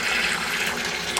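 Water flowing through a pipe inside a strainer in a budget aquaponics system built from barrels, a steady close rushing and splashing that runs unbroken without any talk.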